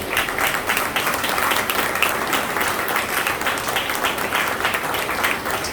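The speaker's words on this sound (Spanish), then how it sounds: "Denle un fuerte aplauso al Señor." A church congregation breaks into dense, sustained applause that fills the room as a continuous roar of many hands, steady and loud throughout with no break.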